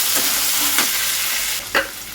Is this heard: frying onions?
yes